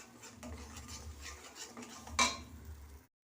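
Cashew and poppy seed paste being stirred in a pot, giving quiet scraping and utensil clinks, with one louder metallic clank near the end.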